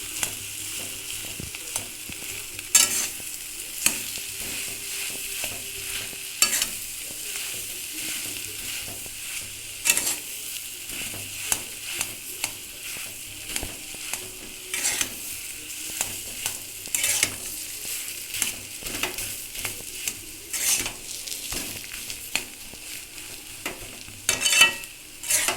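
Mashed potato filling for garlic chops being stirred and fried in a pan, a steady low sizzle with frequent scraping spoon strokes throughout, close and continuous, with no voices.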